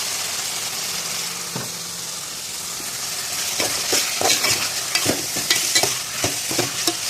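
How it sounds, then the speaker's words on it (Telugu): Fish curry being stirred in a pan with a spoon, with spices such as turmeric and salt being mixed in. Steady sizzling runs throughout, with scraping strokes that become more frequent in the second half. "బాగా కలుపుకోండి"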